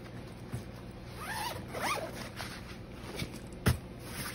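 A zipper on an Easton bow case is pulled in a few quick rasping strokes, close up, followed by a couple of soft knocks.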